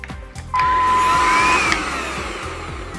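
A Vytronix cordless vacuum cleaner switches on and runs over carpet, a loud steady whine with a high tone that stays close and constant.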